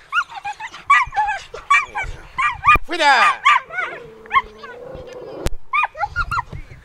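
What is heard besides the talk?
dogs barking and whimpering on a football pitch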